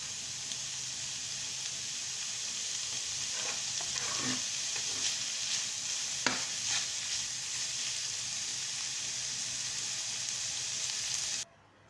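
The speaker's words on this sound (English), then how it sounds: "I just done frying this" Steady frying sizzle from a pan of mushrooms for quiche, with a few stirring scrapes and clinks partway through, continuous and close until it cuts off at the end.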